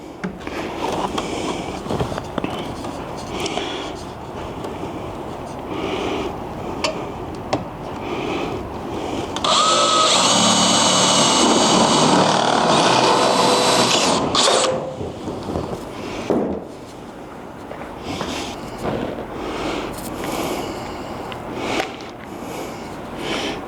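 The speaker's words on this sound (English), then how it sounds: "got my 3/16" drill bit. I'm going to put one in the front, one in the back" A power drill with a 3/16-inch bit whirs for several seconds in a loud, steady burst while drilling holes on a jon boat, surrounded by handling noises and shuffling before and after.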